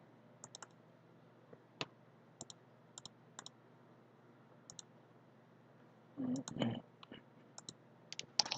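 A computer mouse clicks sharply in quick pairs, with a few isolated clicks and brief keyboard tapping over a faint steady hum.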